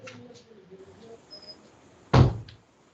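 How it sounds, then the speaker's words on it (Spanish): A room door is pushed shut during an online lecture, landing as a single solid thud after a stretch of faint background noise, with a short fade afterward. "Voy a cerrar la puerta."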